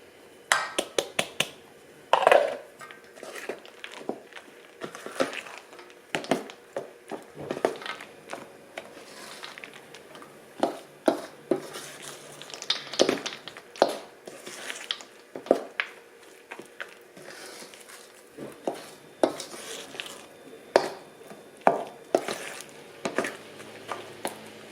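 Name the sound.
mixing chocolate chips into banana peanut butter muffin batter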